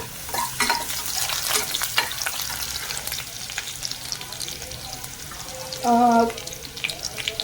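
Chopped garlic sizzles steadily in hot oil in a home kitchen as prawns are readied, a dense crackling hiss throughout with a brief tonal clank near the end.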